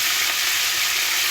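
Curry leaves and mint fry in hot oil with a dense, loud, continuous sizzle and crackle close by, with no break.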